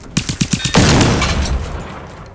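A rapid burst of six or so armor-piercing rounds fires in Generation Zero, close and loud, ending in a heavy impact or explosion that rumbles and slowly fades.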